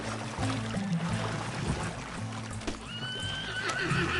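A horse whinnies in Red Dead Redemption 2 over a steady background bed, with a rising tonal call near the end and muffled low rumbles throughout.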